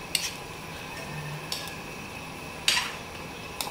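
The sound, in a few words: stirring chicken curry with curry powder in a pan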